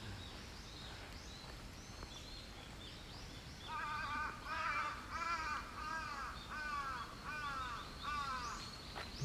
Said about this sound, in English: The crows are speaking.